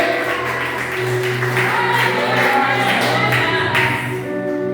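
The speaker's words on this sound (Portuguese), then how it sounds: "Dê uma salva de palmas ao Espírito Santo" A church congregation claps for the Holy Spirit during a service, a brief wash of applause over sustained organ or keyboard tones that carry on beneath it and linger as the clapping fades.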